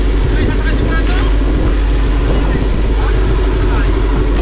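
Steady loud motorboat engine drone at a boat race, close by, running continuously with voices faintly mixed in.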